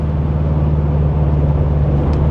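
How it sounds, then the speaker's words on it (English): Steady low drone of a 1975 Porsche 914 Targa's exhaust on a country road, a continuous engine rumble with road noise and no talk. "And that exhaust sounds great too."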